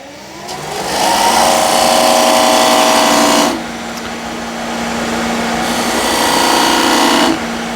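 A wood lathe whirs loudly as a tool cuts into spinning wood in two long passes, with a brief dip in pitch between them.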